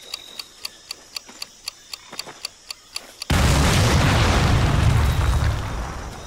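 In a WWII video game, a demolition charge set on an artillery piece detonates in one loud, sudden blast that rolls into a long rumbling roar. Roughly a dozen evenly spaced metallic ticks from the charge's timer come before it.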